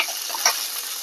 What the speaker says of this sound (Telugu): 1 టీ స్పూన్ నూనె పోసి పచ్చిమిరపకాయలు వేయాలి